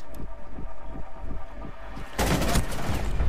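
Gunfire in the video game Rainbow Six Siege, a rapid series of regular shots in a burst, followed by a louder, denser stretch of noisy firing and impact sound.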